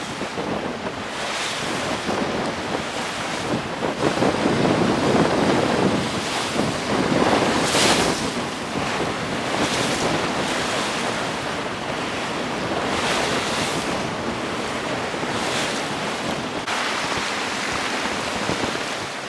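Strong wind roars and waves wash against a sailboat sailing to windward off the Poole coast. Loud gusty wind buffets the microphone, and the surf surges and swells under it. No one speaks.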